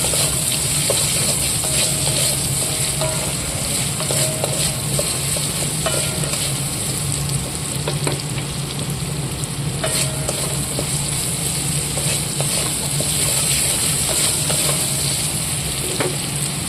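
Onion, tomato and capsicum frying and being stirred in a pan at home, a steady close sizzle with repeated scraping strokes of the spoon throughout, no voices.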